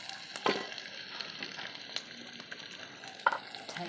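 Pork stir-fries in hot oil for a Tai home-style dish, a close, steady sizzle broken by a couple of sharp scraping stirs of the utensil against the pan.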